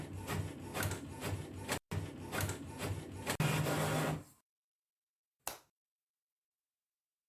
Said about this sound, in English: print the page on your printer